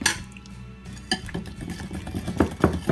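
Pineapple puree being stirred into eggless cupcake batter in a bowl, with soft wet squishing and clinks of a utensil against the bowl that grow louder and more rhythmic toward the end.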